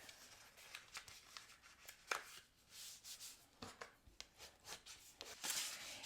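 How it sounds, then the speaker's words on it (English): A piece of cardstock being creased by hand, a run of soft rubbing and scraping strokes with a few sharper brief taps, quiet and close with no talking. "let's go ahead and give a good crease to our other piece of cardstock"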